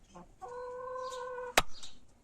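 Adler breed and domestic hens on a farm give a sustained, tonal cluck followed by a sharp knock, with softer clucks around it, close by.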